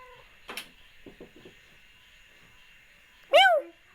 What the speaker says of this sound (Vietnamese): đuổi con mèo đi ơ